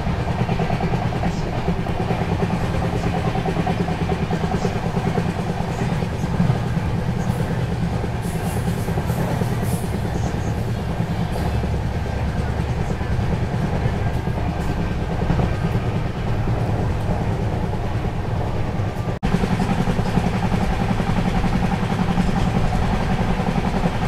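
The Rani Chennamma Express sleeper-class train running after leaving Raybag station in Karnataka, heard from inside as a loud, steady rumble of wheels and carriage noise that continues unbroken throughout.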